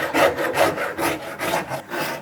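A saw rasp made of riveted bandsaw blades shapes wood in about five rhythmic rubbing strokes, close and clear with no talking.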